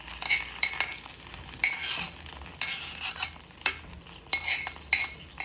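Green chillies, curry leaves and garlic fry in a little hot oil as a spatula stirs, giving a gentle sizzle broken by repeated scraping strokes and light metallic clinks against the pan.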